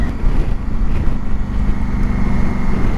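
A motorcycle engine drones steadily on a commute, loud and close, with heavy wind rush buffeting the microphone and no break in the noise.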